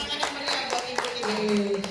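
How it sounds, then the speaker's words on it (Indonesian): Several audience members at a training session give a short round of scattered, uneven claps, close and clear, while voices talk over them. "Nah, kasih tepuk tangan dong."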